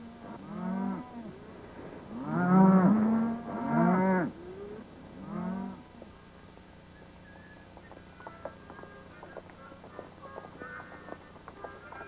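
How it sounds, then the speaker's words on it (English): A herd of cattle lowing several times, the deep calls overlapping near the start and then fading, followed by faint clip-clop and rustling as the animals move on through open country. "I've got a herd of cattle coming through"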